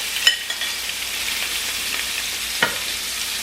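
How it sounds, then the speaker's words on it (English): Steady close sizzle of cubed chicken frying in a hot pan, with a couple of sharp utensil taps against the pan. "We got that sizzle sound."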